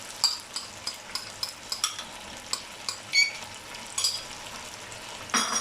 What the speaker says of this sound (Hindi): अब इसमें अदरक लहसुन का पेस्ट डालते हैं।